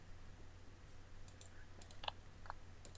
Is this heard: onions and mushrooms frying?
no